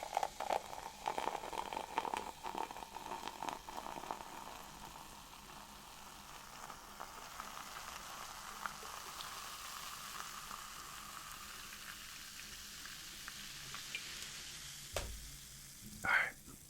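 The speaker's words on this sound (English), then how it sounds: "Alright, let me pour it out into the glass." A drink is poured into a glass up close, with a steady fizzing, sizzling hiss that runs for several seconds and ends in a few louder clinks and knocks.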